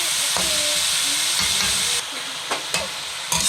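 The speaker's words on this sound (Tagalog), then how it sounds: "medyo pumuputi na yung karne. So, kailangan ay gisa natin mabuti." Ground pork sizzles and fries in a pan, a loud continuous hiss with scraping stir strokes close up.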